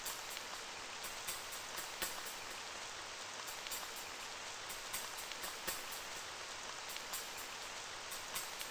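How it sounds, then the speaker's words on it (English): Drizzling rain falls steadily in a forest in an RPG Maker horror video game, a soft, even hiss of fine drops with faint patter, continuous and fairly quiet with no voices. "time to go out into the forest with the drizzling rain"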